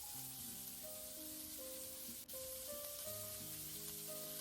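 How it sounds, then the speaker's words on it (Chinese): Bacon-wrapped okra rolls pan-fry seam side down in a hot covered pot, giving a steady, even sizzle throughout with a soft background tone and no talking. "放入卷好的秋葵，收口处朝下，盖上盖子让它煎一下"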